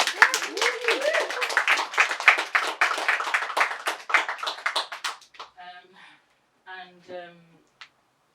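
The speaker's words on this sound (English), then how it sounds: "we can still give a round of applause" A crowd applauds with dense, steady clapping that fades out after several seconds, followed by a few spoken words.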